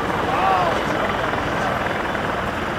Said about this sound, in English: This aircraft is powered by 2 gas turbine engines, that is to say a jet engine